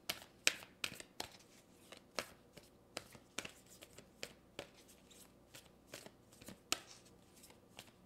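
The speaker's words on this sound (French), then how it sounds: "Je vais aller chercher une Moonology." Moonology oracle cards riffle and slap together in a steady run of crisp shuffling strokes, close and fairly quiet, with no voices heard.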